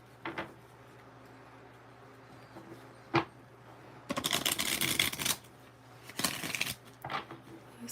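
Tarot card decks being handled: quiet taps and a single snap, then two bursts of brisk card shuffling and riffling, close and fairly loud against a low hum, no talking.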